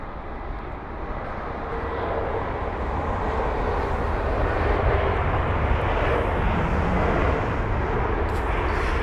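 Aer Lingus A320 jet airliner at London Heathrow, a steady loud roar of jet engines close by that swells slightly and holds throughout with no talk.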